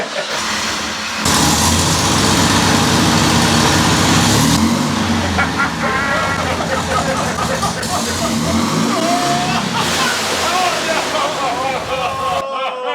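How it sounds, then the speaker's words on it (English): A VW engine roaring loud and steady on a dyno as its blower system breaks apart, with a rough clattering, sloshing roar that holds for most of the stretch before cutting off abruptly; people talk over it. "There goes our blower system. Oh, there's pieces everywhere."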